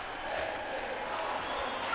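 A wrestling crowd at a hardcore match chants in unison, a loud, sustained mass of voices filling the arena.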